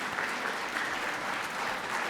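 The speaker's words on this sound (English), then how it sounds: "I encourage you to applaud yourselves for the work you're doing with your young people" An audience at a high school fine arts festival claps in a dense, sustained round of applause filling a hall, steady throughout.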